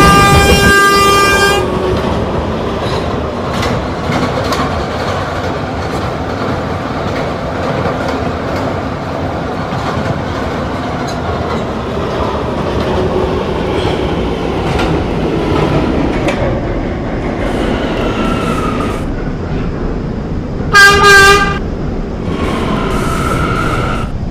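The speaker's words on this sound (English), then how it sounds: "This is a Potato Brook bound K train." A K line subway train runs from Union Turnpike, its wheels clattering steadily on the rails in a loud, continuous roar, with short tonal chimes or horn blasts at the start and again near the end.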